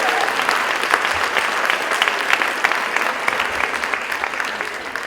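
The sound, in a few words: audience applause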